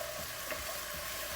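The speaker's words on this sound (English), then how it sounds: "we're gonna fry these potatoes" Diced potatoes fry in a pan for a vegetarian breakfast hash, giving a steady, close crackling sizzle with no voices.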